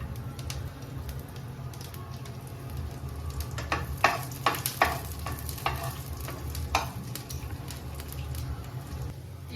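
Chopped garlic and cumin seeds sizzle steadily in hot oil, with a series of sharp crackles and pops around the middle as the garlic hits the pan and is stirred; no one speaks.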